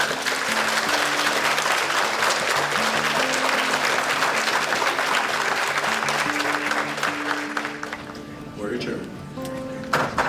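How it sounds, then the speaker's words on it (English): A courtroom audience breaks into sustained applause for freed defendants, a dense, steady wash of clapping that goes on for several seconds before thinning out, with faint talking mixed in. "if you want to applaud the defendants and all involved, you may do that at this time"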